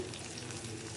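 Soft, even sizzle of chhena koftas frying in oil, a brief, faint, continuous crackle with no other sounds.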